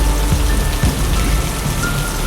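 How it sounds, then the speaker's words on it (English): Heavy rain pours steadily during a thunderstorm, a dense close hiss of drops on surfaces with a few soft low thuds and no voices. "So difficult to find you in the rain."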